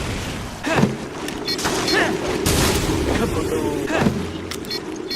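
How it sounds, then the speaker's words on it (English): In Resident Evil: Revelations, a satchel charge explodes as a melee move. Several loud broadband blasts and bursts of in-game combat noise come over a continuous rumbling background, and voices speak during it. "Quint's melee move is simply a satchel charge"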